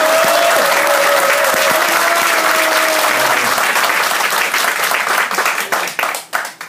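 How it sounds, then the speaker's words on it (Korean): Loud, sustained audience applause at a gathering, dense clapping with a brief cheer, thinning into scattered separate claps near the end. "다시 한번 박수 부탁드립니다."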